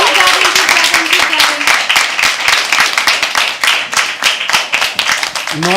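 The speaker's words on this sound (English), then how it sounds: "Keep clapping, keep clapping" An audience at a live poetry open mic claps steadily and continuously, a dense patter of many hands, with a voice briefly audible at the start and end.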